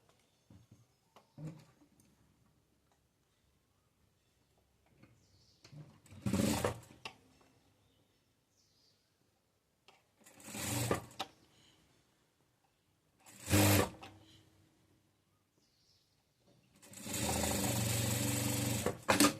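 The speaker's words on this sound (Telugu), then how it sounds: "ఈ క్లాత్ ఎంతవరకు ఉందో అంతవరకు ఇలా మలిచేసి కుట్టు వేసుకోవాలి" Sewing machine stitching blouse cloth, four separate bursts of whirring stitching, the last one longest, with near-silent gaps between.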